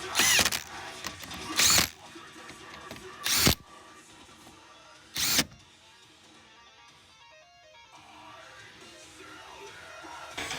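A power tool reinstalls the lower bolts on a 2021 Ford Explorer during bumper work, with four short, loud bursts of spinning, spaced a couple of seconds apart, followed by quieter handling noise.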